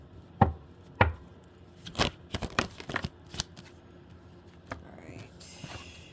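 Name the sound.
tarot cards being shuffled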